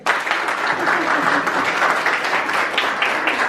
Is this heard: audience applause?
yes